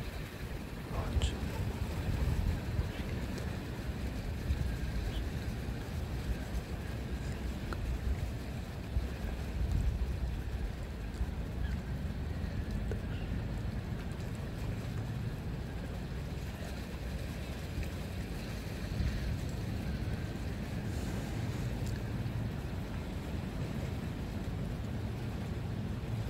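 Ocean waves wash in a soft continuous roll, moderately loud, with faint wind noise and a calm voice speaking over parts of it.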